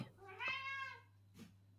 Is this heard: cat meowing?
yes